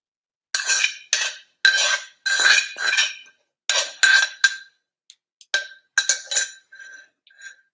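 Papaya salad scooped onto a plate with a utensil, giving a string of close, clinking scrapes of metal on dish in short irregular bursts, with no talk.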